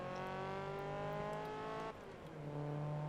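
A Honda VTEC engine revs in the Forza Motorsport 2 racing game during a Goodyear 150HP Invitational, a steady droning engine tone that dips briefly and then climbs again, fairly faint.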